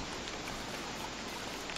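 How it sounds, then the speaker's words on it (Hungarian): Steady rain in the survival game Don't Starve, a constant even hiss of falling drops that fills the whole moment without pause, no voices. "egyébként tényleg sokat esik az eső"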